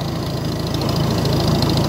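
A Farmall 350 tractor engine runs steadily while hitched to a Woods 208 bush hog cutter, a loud, close, throbbing rumble with an even rhythmic chug and no voices over it.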